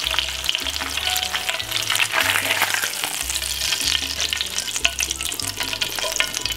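Bacon fries loudly in a pan at breakfast, a dense, crackling sizzle with steady popping and occasional stirring or scraping, heard up close and without voices over a faint low hum.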